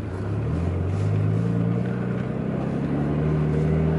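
A manual stick-shift car pulls away as the gas is pressed slowly, its close, steady low engine drone edging gently upward in pitch with no talking.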